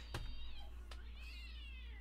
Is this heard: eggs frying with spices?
no